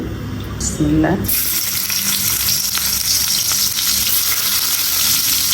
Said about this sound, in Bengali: এখন কড়াইয়ে তেল দিয়ে দিব তেলটা একটু বেশি দিতে হবে